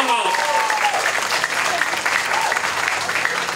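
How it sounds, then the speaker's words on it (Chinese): An audience at a Taipei gathering applauds a national association president, a full, steady wave of clapping with a voice briefly over its start. "我们再一次给全国会长掌声鼓励，好不好？"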